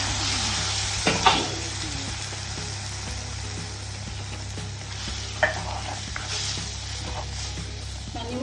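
Mustard seeds sizzle and fry in a pan with a steady hiss, punctuated by a few sharp clinks of a utensil and a brief louder splash-like burst midway.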